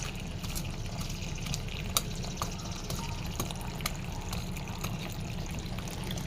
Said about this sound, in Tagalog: nilagyan ko siya ng tubig para lumabot yung lupa guys